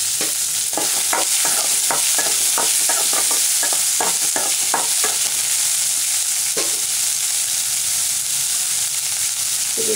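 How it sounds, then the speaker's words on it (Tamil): Beans curry ingredients with onions and curry leaves fry in a pan with a constant loud sizzle, while a spoon scrapes and stirs in quick repeated strokes through the first half, then only occasionally. "இது நல்லா வறுபட்டுருச்சு."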